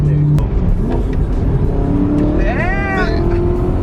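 BMW M3 V8 with loud exhaust, heard from inside the car as a steady engine drone that climbs in pitch while accelerating, with people talking over it.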